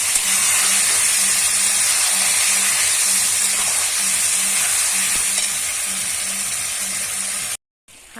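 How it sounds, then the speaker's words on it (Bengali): Meat sizzles loudly in hot oil in a kadai. A dense, steady frying hiss runs close and continuous, then cuts out briefly near the end. "দেখো আমি এবার দিয়ে দিয়েছি কড়াইতে মাংসটা।"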